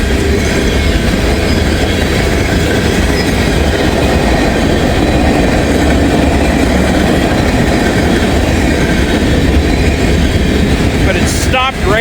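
Loud, steady rumble of a train rolling past at close range in damp post-rain conditions, a continuous wash of wheel and car noise holding for the whole stretch, with a brief squeal near the end.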